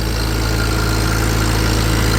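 Overhauled tractor engine idling, a steady close, low rhythmic chug with even pulses and constant loudness, no voices.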